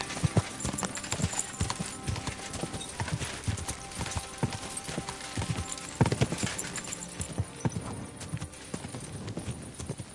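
Horse hooves galloping in the medieval game Kingdom Come: Deliverance II, a steady rapid clip-clop of hoofbeats over a dense wash of outdoor noise, continuous and fairly close throughout.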